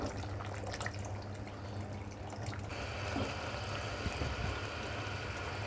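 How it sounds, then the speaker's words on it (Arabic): Water poured into a cooking pot with pasta and salt already in it, a steady close splashing and trickling stream that grows fuller halfway through, with no voices. "هلا بنضبط المي تبعها، بنزيد المي مشان ما تنشف."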